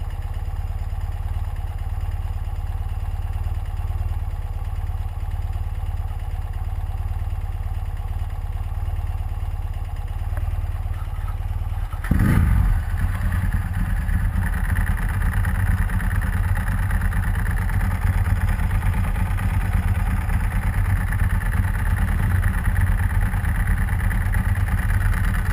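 Classic Ducati 996 SPS and BMW R100RS motorcycles riding on Mulholland: a steady, loud engine drone throughout, with a sharp rise in pitch partway through as one accelerates close by, no talking.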